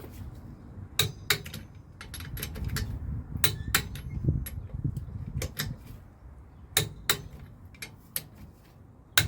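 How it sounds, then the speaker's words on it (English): A torque wrench clicks repeatedly while wheel nuts are tightened on a Toyota Yaris Mk2 XP90, sharp metallic clicks in irregular clusters over a low steady background hum. "tighten those wheel nuts back up. So we'll reset the torque wrench, give them a click"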